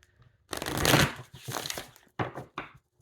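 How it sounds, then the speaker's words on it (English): A tarot card deck is shuffled by hand, a dense rustling riffle followed by several shorter bursts of cards slapping and sliding, close and clear with no talk. "We'll give another shuffle to the tarot."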